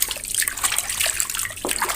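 Water is poured and splashed over feet during a home pedicure, a close, continuous splashing and trickling with small drips and bursts.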